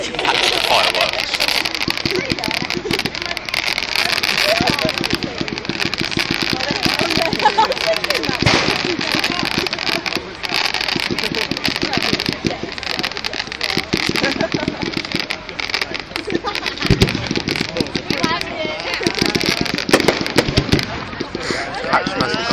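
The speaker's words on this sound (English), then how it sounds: "Fireworks." A 2012 fireworks display at Stoke Park fills the air with loud, continuous crackling and popping bursts, dense overlapping bangs with no pause throughout.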